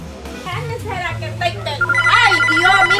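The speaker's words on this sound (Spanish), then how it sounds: "el teléfono suena y suena" A telephone rings in repeated electronic trills, loud and close, with a voice speaking near the start and music-like tones underneath.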